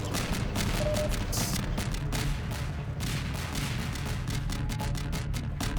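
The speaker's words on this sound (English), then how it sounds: "So many explosions, my god." Dense, continuous barrage of booming blasts and gunfire-like cracks in the video game Half-Life 2, loud and chaotic throughout with no pauses.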